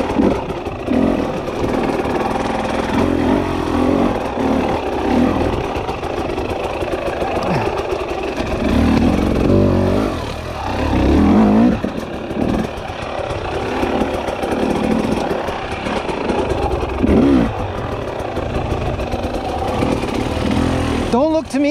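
Two-stroke dirt bike ridden on a woodland trail, its engine droning steadily and close throughout with rising and falling revs, a few louder bursts of throttle mid-ride.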